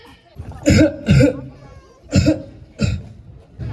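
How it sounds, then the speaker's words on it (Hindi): Repeated harsh coughs in uneven bursts, close and loud, five or so in a row with short pauses between. "पापा आप खांसना बंद करोगे प्लीज?"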